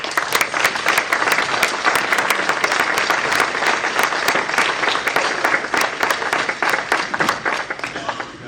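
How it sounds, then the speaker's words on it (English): A room full of people claps loudly and steadily for a keynote speaker at an event celebrating New Orleans Big Chiefs. The dense applause holds for the whole stretch. "let us applaud Dr."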